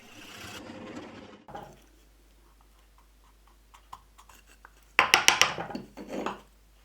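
Hole saw cutting into wood with the saw partly overlapping the edge, a brief loud grinding burst after quieter ticking, close by.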